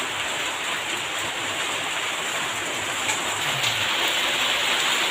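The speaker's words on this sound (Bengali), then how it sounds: "প্রচণ্ড বৃষ্টি শুরু হলো রান্না শুরু করলে প্রচণ্ড বৃষ্টিও শুরু হলো" Heavy rain pours down steadily in a dense, even hiss that stays loud and unbroken throughout, with no voices over it.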